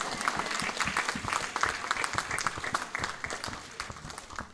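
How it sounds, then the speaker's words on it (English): Audience applause at a gurukula celebration day, a dense, steady clapping from a crowd holding at even loudness for several seconds with little else over it. "Can you all please give me a big round of applause?"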